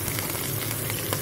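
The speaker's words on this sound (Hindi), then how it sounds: "ये ऑयल अब गर्म हो चुका है, इसमें अब हम डालते हैं जीरा और इसको क्रैक होने देते हैं" Cumin seeds dropped into hot oil for a masala bhindi crackle and sizzle densely and continuously up close, with quick pops scattered through the hiss and no voices.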